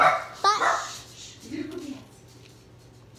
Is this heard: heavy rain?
no